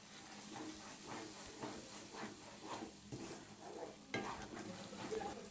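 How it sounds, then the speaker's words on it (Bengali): Spice masala for Bengali-style butter chicken fried with a little water and sugar, a steady, faint sizzle and hiss under rhythmic stirring scrapes, close and continuous with no talk. "মশলাটা দিয়ে অল্প জল দিয়ে দেবো। মশলাটা ভালো করে কষিয়ে নেব।"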